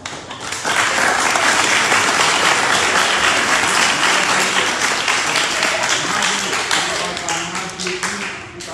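A crowd applauds, dense steady clapping that swells and then tapers off toward the end, with a voice faintly underneath.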